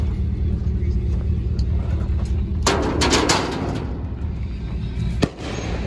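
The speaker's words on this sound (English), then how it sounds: "Watch a little firework in action." Fireworks go off at night near a racetrack in Virginia, a burst of several crackling pops over a steady low rumble of engines or traffic, moderately distant.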